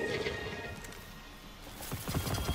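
A horse in the Destiny 2 video game neighs and whinnies over steady clip-clopping hooves, a busy, fairly loud game soundscape with the hoofbeats growing more distinct toward the end.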